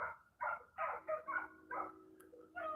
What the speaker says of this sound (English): They bark like that for a reason.